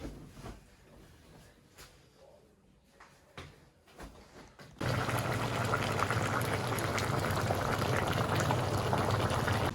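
A pot of pig trotters braising with soybeans comes to a hard, loud boil, bubbling steadily after a quieter stretch of faint kitchen noises.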